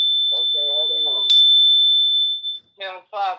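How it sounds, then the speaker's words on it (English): A small hand bell struck once rings with a clear, sustained metallic tone that slowly decays, with people talking before and after it. "It's my Zen Bell weapon."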